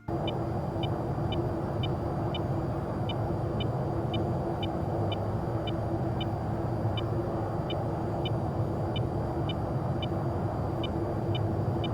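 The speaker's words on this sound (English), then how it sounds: "When radars have a TWS track on you, it sounds like this." Rapid high-pitched radar warning beeps for a track-while-scan track in VTOL VR's EF-24G tick roughly twice a second over a constant droning engine rumble, steady throughout with no talking.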